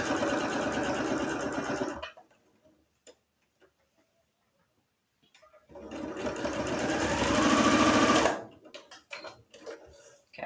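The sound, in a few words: sewing machine stitching pajama pant leg seams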